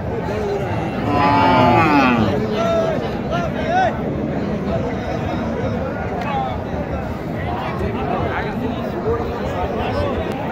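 Cattle low now and then amid a busy crowd, with steady chatter and voices filling the background of an outdoor cattle market in Naogaon district.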